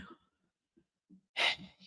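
A single sharp sneeze bursts out after a few soft breaths and faint voice sounds, fairly close but quiet overall.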